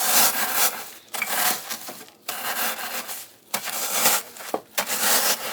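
Freeze-dried ground tomatoes are coarsely crushed by hand, giving loud, close crunching and rubbing strokes in several bursts separated by brief pauses.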